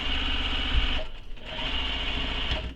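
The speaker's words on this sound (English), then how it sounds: "So right now what we're doing is we're sewing this pocket closed" A sewing machine stitches a backpack zipper pocket closed in close, continuous whirring runs, breaking briefly once before starting up again.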